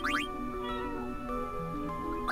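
A cat meows several times at close range over steady background music from a Final Fantasy IX game session, with repeated short, rising calls spread across the clip.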